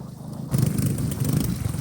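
A motorcycle engine suddenly starts up and settles into a steady low rumble, close and fairly loud, after a quiet start.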